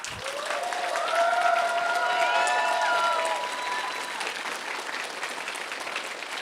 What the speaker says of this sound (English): would you please give an applaud to my team?